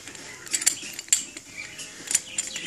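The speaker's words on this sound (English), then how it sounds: "Put the lid on." A metal lid set onto a Kaloud Lotus hookah heat manager, producing several sharp close metallic clinks and taps spread across a few seconds, with no talking.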